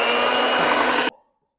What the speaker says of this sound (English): now I'm going to just mix it with my mixer on low